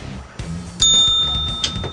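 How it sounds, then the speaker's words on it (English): A bicycle-style bell gives a bright ding that rings on and fades, with a second short ding shortly after, heard fairly close over a dull background. "Chuck Norris does not like bells."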